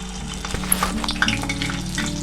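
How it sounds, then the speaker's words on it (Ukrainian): Vietnamese spring rolls sizzle and crackle steadily in hot oil, with scattered sharp pops over a continuous frying hiss, close by. "Викладаю всі та смажу до зарум'янення"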